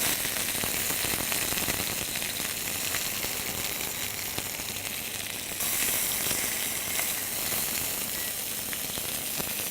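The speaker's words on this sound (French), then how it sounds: "une fois que l'huile est bien chaude, on place notre viande dans la poêle. Vous entendez? Il faut faire chanter la poêle." Lamb shank searing in very hot oil in a frying pan, a loud, steady sizzle that fills the whole stretch with crackling spits and no talk.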